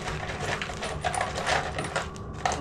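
A hand rummages through a pile of loose metal nuts and bolts in a workshop while working on a Harley-Davidson, producing a dense, continuous jangle of close metallic clinks and rattles with no talk.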